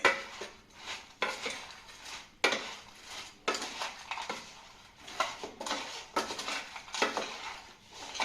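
Apple pieces mixed into farali bhel in a bowl, a series of spoon scrapes and clinks in an irregular rhythm, close and fairly soft.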